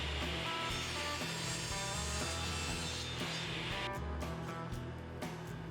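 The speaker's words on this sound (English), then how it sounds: "I cut a couple of pieces of plywood" A power saw cutting plywood pieces for a circle-cutting jig, a loud continuous buzzing whine that holds steady and shifts in tone partway through, with no talking.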